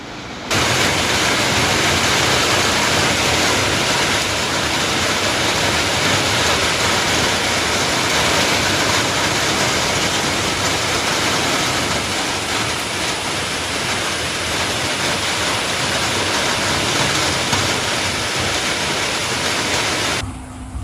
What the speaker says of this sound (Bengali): বৃষ্টি পড়ছে বাইরে